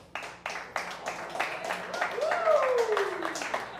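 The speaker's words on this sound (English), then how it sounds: "Clap if you are only an uncle." A small crowd at a comedy set in a brewery claps in steady, evenly spaced beats that grow denser, with a rising then sliding whoop from someone in the room partway through.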